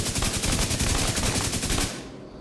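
Rapid automatic rifle fire in The Division 2, a dense unbroken burst of loud close shots for about two seconds before cutting off into a short fading tail.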